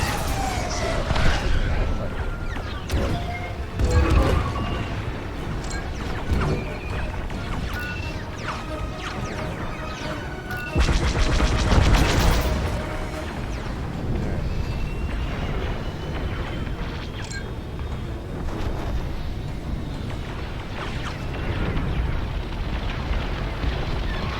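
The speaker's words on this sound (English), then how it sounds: "Corvette taking fire." A corvette under fire in a Republic missions game: repeated explosions and crashing impacts, with heavy bursts near the start and around the middle over a dense rumbling battle bed.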